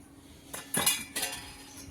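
A spoon scrapes and clinks against a pan while khoya is stirred, two or three quick metallic strokes over a quiet background.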